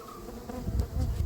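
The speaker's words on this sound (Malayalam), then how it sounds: "എൻട്രൻസിൽ കൂടെയൊക്കെ ഈച്ച കയറുന്നുണ്ട്" Stingless bees hum and buzz at the entrance of a small honey-bee hive, a close, continuous droning that swells slightly in loudness toward the end.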